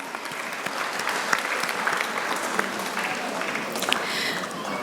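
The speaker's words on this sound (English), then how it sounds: "A big round of applause." Parents and guests at a preschool annual day in Mysore break into applause, a brisk, steady clatter of many hands with a few louder claps standing out near the end.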